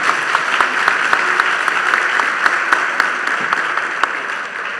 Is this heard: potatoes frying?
no